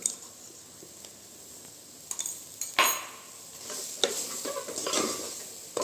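Masala mixture with added salt stirred in a pan for a meal maker (soy chunk) gravy, giving soft scraping and squishing strokes with a faint sizzle and a few sharp utensil clinks, close up and without talk.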